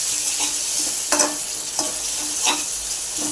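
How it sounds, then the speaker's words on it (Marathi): Tomatoes with crushed green chili and garlic paste sauté in a hot pan, a steady sizzle broken by four or five scraping stirs of a spatula at even intervals, close and clear with no voices. "त्यानंतर टोमॅटोही घालून घेऊया आणि हे थोडं परतून घेऊया।"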